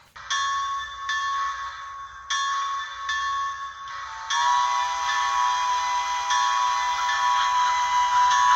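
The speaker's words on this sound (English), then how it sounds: "They waited for the train to depart before starting off to see what the children had done with their clubhouse." A train on a Rocky Mountain railroad sounds repeated whistle or bell blasts, then a sustained steady tone with rumbling underneath as it pulls away, loud and fairly close, with no talk.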